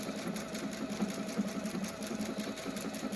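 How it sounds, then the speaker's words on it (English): A PFAFF performance icon sewing machine stitching backwards at a slowed speed, giving a steady, even mechanical whir with a rapid regular needle rhythm, close and moderately quiet. "Then I'm going to press Start Stop, and they're going to stitch backwards. And I've slowed it way down"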